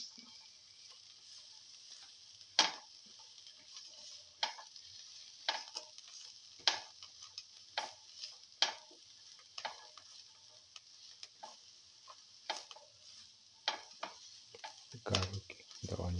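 Garlic, onions and ginger sauté in a pan with a soft steady sizzle, broken by frequent sharp scrapes and taps of a spoon stirring against the pan.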